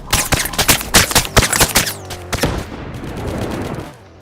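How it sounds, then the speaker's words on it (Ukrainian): Rapid bursts of gunfire in a Roblox shooting game, a quick sequence of sharp close shots followed by a denser rattling volley that fades out near the end. "Друзі, по нам стріляють!"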